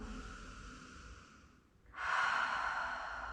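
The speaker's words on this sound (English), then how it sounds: "taking a few cleansing breaths in through the nose and sighing it out through the mouth" Slow, calm breathing during a yoga stretch: a steady nasal inhale fades out, then a louder, breathy sigh is pushed out through the mouth, close and alone.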